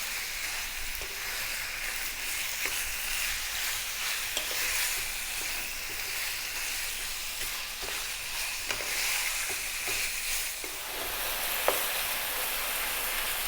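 Lamb pieces fry in fat in a pan over medium-high heat, giving a steady, dense sizzle with faint scrapes and stirring ticks. No one speaks.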